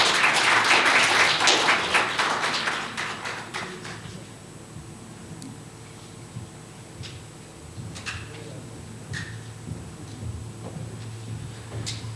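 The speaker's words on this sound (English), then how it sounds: "another round of applause for our guest all the way from the UAE" An audience applauds after a public lecture in a hall, the clapping loud at first, then thinning into scattered taps and faint room noise.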